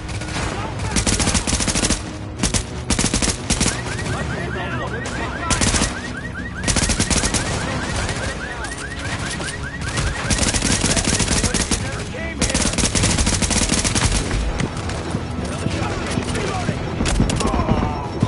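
Gunfire during a firefight in The Division, with loud, sustained bursts of automatic weapons and rapid shots layered densely over the whole stretch, with voices shouting in between.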